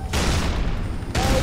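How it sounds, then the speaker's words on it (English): A sustained, loud burst of rapid gunfire in Halo 3 fills the whole moment, dense and continuous with a brief dip before resuming. "why the hell do you keep shooting?"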